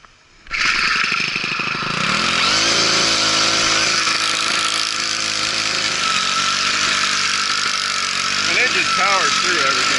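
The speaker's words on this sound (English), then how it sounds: "So, now I got my straight shaft trimmer." A straight shaft string trimmer engine, given loss-of-power fixes and power mods, starts up and runs with a loud, steady, buzzing whine, then its pitch wavers briefly near the end.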